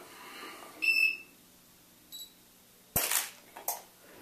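A camera fires test shots during a product shoot, giving a few sharp clicks, one strong shutter-like snap followed by two quicker ones, with faint electronic beeps before them in a quiet room.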